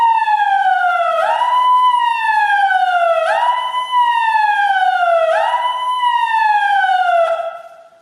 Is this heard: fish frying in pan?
no